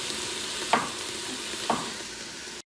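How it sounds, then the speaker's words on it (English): Mushrooms sautéing in an Instant Pot: a steady, close sizzle of frying, broken twice by the scrape of stirring, then a brief cut to silence at the end. "let's add these mushrooms right away. We're gonna cook this for 1 more minute"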